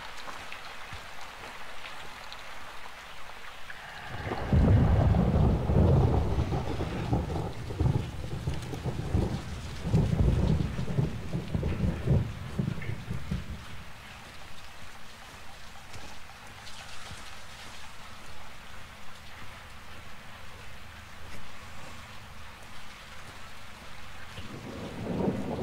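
Heavy rain pours steadily while thunder rumbles loud and near, swelling for several seconds before easing back into a constant downpour, set during a stormy stealth mission in the 2022 game Call of Duty: Modern Warfare 2.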